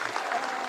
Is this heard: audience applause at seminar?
yes